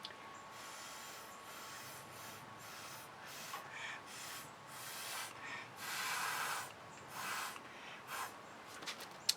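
Soft, repeated puffs of breath blow across poured acrylic paint, faint airy hisses coming in short bursts over quiet background.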